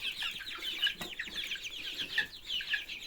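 Young chicks eating mash, a dense chorus of high soft peeping and clucking calls from several birds close by, continuous and fairly quiet, with no talking.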